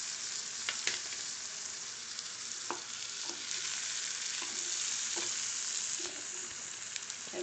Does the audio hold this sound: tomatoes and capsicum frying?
yes